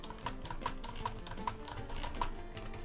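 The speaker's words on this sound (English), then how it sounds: "Does the keyboard sound softer?" Computer keyboard typing during a Spiral Knights game session, soft rapid key clicks in an irregular steady stream, fairly quiet and close.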